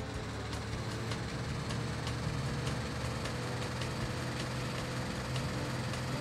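A convertible's engine in the video game Driver: Parallel Lines (2006) hums in a steady drone, loud and close, running without pause, with faint rattling ticks over the top.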